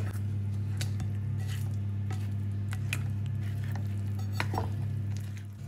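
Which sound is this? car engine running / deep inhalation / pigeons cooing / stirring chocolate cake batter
stirring chocolate cake batter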